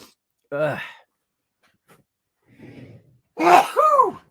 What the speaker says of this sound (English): I keep on sneezing.